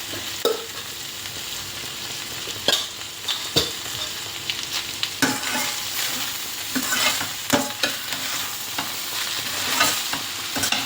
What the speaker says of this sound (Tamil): இந்த சாதத்தை இதில் போட்டு கிளறுவோம்